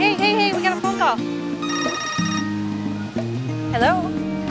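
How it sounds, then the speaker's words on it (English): A telephone rings indoors with a melodic, warbling electronic tone, repeating in bursts and heard close and clear while other sounds carry on beneath it. "Hey, we got a phone call."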